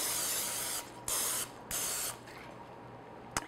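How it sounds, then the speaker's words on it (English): Three short hissing bursts of aerosol non-stick cooking spray onto a loaf pan, close and fairly loud, separated by brief pauses, ending with a faint click. "today I'm just going to spray it with a non-stick spray"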